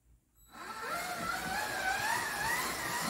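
A slot car, a model supercar called Kit, whines around the track loudly after a brief quiet start, a steady high electric motor pitch rising and falling as it runs.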